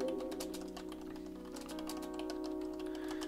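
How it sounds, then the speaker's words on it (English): Fingers type a message on a computer keyboard in quick, irregular clusters of light clicks, heard close and quiet over a faint steady hum. "I need to type a message on my keyboard."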